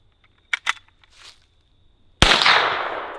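A single loud gunshot from a truck-mounted gun cracks sharply after a few faint voices and a quiet pause, its report decaying over the following second.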